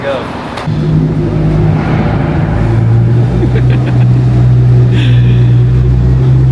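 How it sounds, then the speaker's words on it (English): A car engine revs and holds a strong, rising drone as it accelerates hard uphill, loud and close, with people talking over it. "is just flooring it up this thing"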